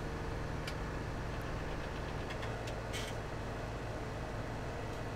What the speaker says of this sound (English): this auger wagon kind of pushes this tractor a little bit,